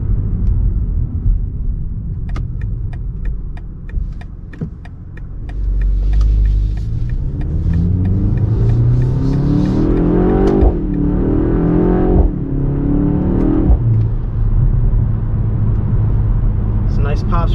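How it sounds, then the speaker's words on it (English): BMW X2 M35i engine revving and downshifting in sport mode, rising and falling revs with a taut rumble and crackling exhaust pops, close and loud, with someone talking over it. "Some nice pops from the exhaust."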